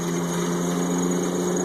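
A riding lawnmower engine runs at a steady, droning pitch with a constant hum, close by and even in level, with no voices over it.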